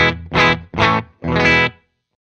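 Clean analog electric guitar tone through a Wampler Mini Faux Spring Reverb pedal: four strummed chords in steady succession, each ringing briefly with a short reverb tail before silence, played alone and close.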